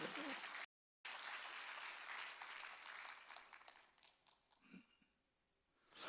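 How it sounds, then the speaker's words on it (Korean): A church congregation applauds in a broad, dense clatter of claps that thins and fades toward the end. "박수."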